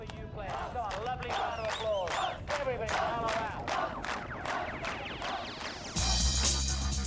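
A fanatical crowd roars and chants with rising, cheer-like shouts at the 1999 Al Ahram World Open squash final between Peter Nicol and Ahmed Barada, loud and continuous before a sudden cut to steady tones.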